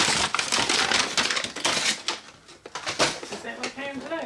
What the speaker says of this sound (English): the just released Michael Myers that hopefully is in this brown paper. So let's go ahead and open this up